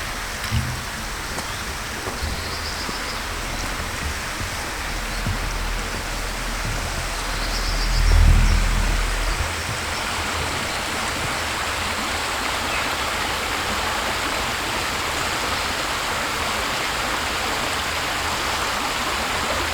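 Hodbeck stream flowing through a gentle valley near a bridge in North Yorkshire, a steady broadband rush of water running unbroken at an even level, with one brief louder swell midway and no voices.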